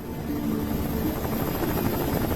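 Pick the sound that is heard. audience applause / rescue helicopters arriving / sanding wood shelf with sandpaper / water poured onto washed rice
rescue helicopters arriving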